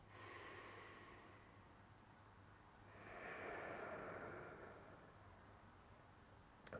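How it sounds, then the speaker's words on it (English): A slow deep breath, soft and close, drawn in and then let out as a gentle airy rush, alone in a quiet room. "Deep breath."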